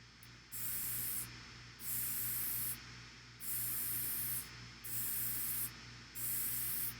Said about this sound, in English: spray it again, and just do consecutive light washes